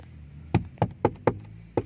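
Five firm knocks on the interior door panel of a 2018 Proton Iriz, close and distinct, slightly uneven in rhythm with quiet between them.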